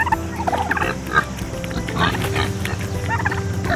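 Farm turkeys gobble in repeated bursts while eating grapes tossed to them, close and loud over a dense, continuous backdrop of other animal noise, with no talking.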